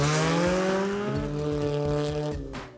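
A loud 2007 Pontiac G5 engine with a raspy custom-built exhaust, steady droning with a deep rumble, close by.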